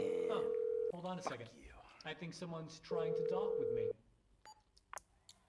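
A phone ringing inside GTA V, heard as a steady electronic tone in two long bursts with a gap between them. Someone speaks over the gap, and the clip ends quietly with a few faint clicks.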